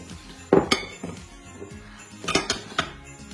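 A utensil clinks sharply against a bowl while flour and baking powder are mixed for almond Christmas biscuit dough: a few hard knocks and rattles spaced irregularly, close and fairly loud, with no talking.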